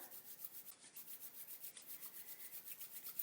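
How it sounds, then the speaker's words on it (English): Palms rubbing briskly together make a soft, rhythmic swishing friction, repeating in quick even strokes, close and quiet with no voices. "just start by rubbing your hands together"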